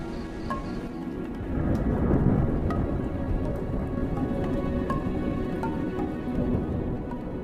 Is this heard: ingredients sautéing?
no